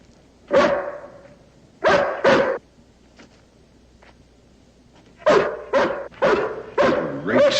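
A hound barks in clustered bursts: one bark, then a pair, then a rapid run of four or five, fairly close, with faint whimpers in between.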